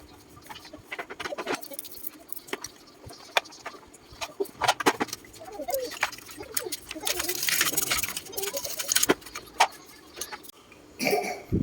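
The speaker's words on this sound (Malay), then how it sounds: "Pada bahagian-bahagian yang terlampau kotor kita lap dengan kain basah, lepas tu kita cuci dengan berus gigi." Scrubbing and wiping dirty vacuum cleaner parts with a toothbrush and wet cloth, heard as close, irregular scratchy brushing strokes and soft rubbing bursts of varying loudness, with occasional small clicks.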